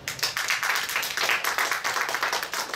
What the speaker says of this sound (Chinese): 好，那掌声欢迎Fumi。